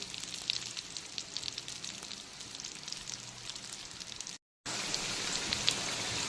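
Potatoes frying in oil over a full flame, a dense crackling sizzle that drops out briefly near the end and then resumes just as loud.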